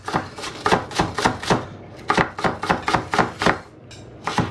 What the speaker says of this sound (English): I'm just going to chop some spring onions roughly.